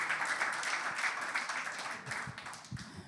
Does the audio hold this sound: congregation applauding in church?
yes